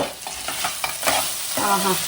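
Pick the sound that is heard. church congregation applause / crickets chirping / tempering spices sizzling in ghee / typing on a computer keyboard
tempering spices sizzling in ghee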